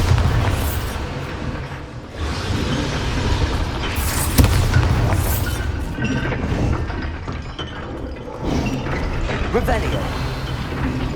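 A Bombarda spell explosion in Hogwarts Legacy, a loud rumbling boom with crashing debris that stays dense and heavy for several seconds, with a voice calling out over it.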